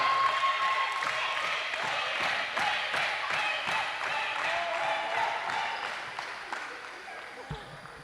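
A crowd applauds the MVP of a Jamaica versus Trinidad and Tobago netball match during a presentation, with sustained, even clapping throughout and some speech mixed in.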